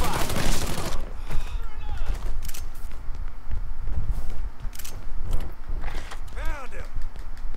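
Gunfire in the Mafia 3 video game, scattered shots and bursts mixed with creaks and mechanical clatter, while characters shout over the action.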